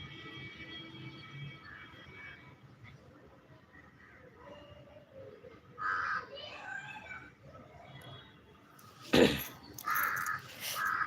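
Several crows caw outdoors at a moderate distance, with scattered harsh calls over low background hum and a sharp, loud noise near the end.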